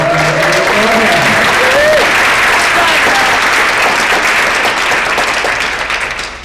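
A loud, sustained wave of audience applause fills an award ceremony for teachers and students. A few voices rise briefly at the start, and the clapping thins slightly toward the end.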